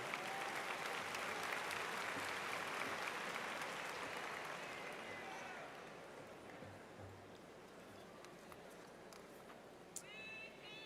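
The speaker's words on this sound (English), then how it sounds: "Let's give them all a round of applause," A large audience applauds at a university spring commencement ceremony, loud broad clapping that gradually thins and fades toward the end, with faint voices underneath and a few stray sharp sounds near the finish.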